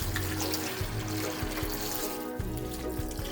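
Filtered water poured from a gallon container over kava, a continuous splashing, gurgling pour with small rhythmic glugs, close and steady for a few seconds without talking.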